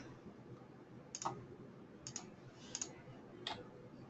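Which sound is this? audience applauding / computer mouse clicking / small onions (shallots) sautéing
computer mouse clicking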